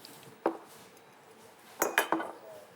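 A knife cuts small onions on a board, giving one sharp click followed later by a quick cluster of three crisp knocks and clinks. They are close and fairly clear over a quiet background.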